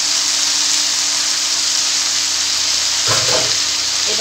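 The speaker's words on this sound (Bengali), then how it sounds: "ভালোভাবে মশলার সাথে মিশিয়ে দিচ্ছি।" Vegetables and spices frying in a pan while being stirred, a loud continuous sizzling hiss with a short burst of scraping stir strokes near the end; no talking.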